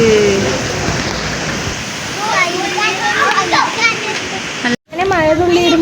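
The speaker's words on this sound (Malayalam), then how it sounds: "നല്ല കാറ്റ് വീശലിട്ടോ നല്ല മഴ വരുന്നുണ്ട് കേട്ടോ നല്ല മഴയും ചാറുണ്ട്" Strong wind with rain makes a loud, continuous rushing roar, like pouring water. A person talks over it, and the sound cuts out briefly near the end.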